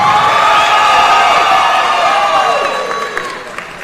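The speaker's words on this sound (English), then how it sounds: "By a round of applause, who all thinks Cassandra Ocampo, the red corner, won the fight?" Crowd at a Muay Thai championship fight cheering and applauding, a loud sustained roar with whoops that gradually tapers off.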